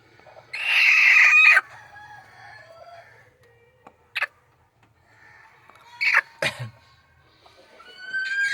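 Free-range country chickens at a coop being opened in the morning cluck and call in scattered bursts, including a longer crow-like cry early on, with quiet stretches between.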